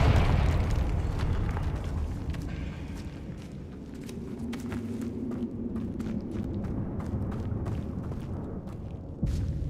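In Hogwarts Legacy a Confringo blasting spell explodes with a loud opening boom that rumbles and fades, followed by scattered crackles, footsteps and a sharp bang near the end.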